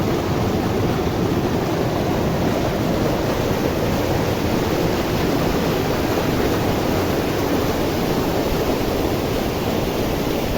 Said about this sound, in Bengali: এটা হচ্ছে মন্দাকিনী ফলস, ওই উপর থেকে পড়ছে জল।